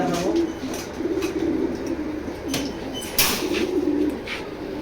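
A female racing pigeon coos in low, rolling calls that recur through the stretch, near and moderately loud, with scattered sharp clicks and rustles around them.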